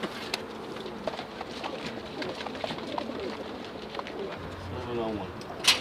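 Pigeons coo from a New York City rooftop where they are kept, with low cooing pulses and scattered fluttering and clicks against steady outdoor background hum, a brief louder burst near the end.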